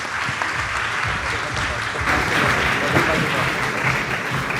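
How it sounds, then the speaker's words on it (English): Audience applause at a business conference panel in Mumbai, a sustained wash of clapping that swells slightly louder partway through and continues steadily to the end. "Can we have a huge round of applause for this August panel?"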